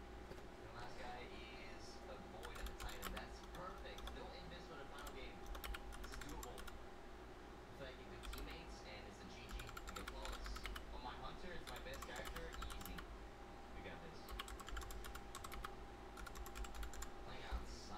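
Typing on a computer keyboard gives a run of quick, irregular clicks in bursts with short pauses, fairly close against a low steady room hum.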